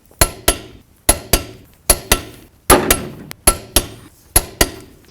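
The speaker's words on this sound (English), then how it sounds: "Torque your lug nuts to 120 foot-pounds." A torque wrench tightens the front wheel lug nuts on a 1988-2002 GMC Sierra 1500 pickup, giving sharp metallic clicks that come mostly in quick pairs, evenly spaced and close up, with no talking.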